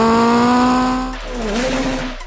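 A Volkswagen Golf MK II sleeper car runs at high speed, its engine giving a loud, sustained tonal whine that suddenly drops off, then shifts into a rougher, wavering roar with a brief tire-squeal quality, no voices present.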